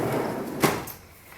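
A drawer in a craft room slides open with a soft scraping rumble and a brief knock, close and fairly quiet, with no talking.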